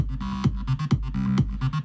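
A synth chord pad pumps under a volume-shaper effect, ducking around each steady kick drum hit in a regular four-on-the-floor rhythm, loud and close with no voices.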